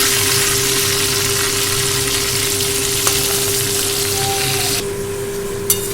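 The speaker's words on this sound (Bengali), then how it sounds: "চিংড়ি মাছ ভাজা হয়ে গেছে" Prawns fry in hot oil left from frying hilsa fish, a loud, continuous close sizzle with a steady hum underneath and a couple of brief clicks near the end.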